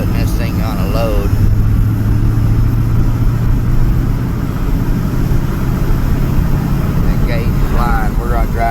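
Engine of a 1988 Chevy K2500 pickup lugging under load uphill, a steady loud low drone with road rumble heard from inside the cab, while someone talks over it.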